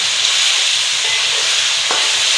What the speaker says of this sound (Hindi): इसके लिए हम पहले चिकन को अच्छी तरह से फ्राई कर लेंगे।